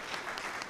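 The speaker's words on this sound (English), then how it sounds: "Round of applause for" Steady applause from a crowd, a dense patter of many hands clapping together.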